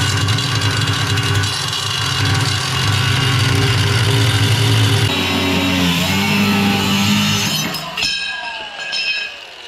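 An angle grinder cuts off a piece of metal trailer bracket: a loud, continuous high whine with a heavy low drone that shifts in pitch, then winds down and ends with faint clinks.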